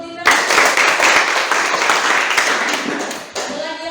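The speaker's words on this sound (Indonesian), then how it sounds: "Oke, tepuk tangan dulu" Classroom applause for a student, a dense steady patter of many hands clapping together for several seconds at close range, with a brief dip near the end before it resumes.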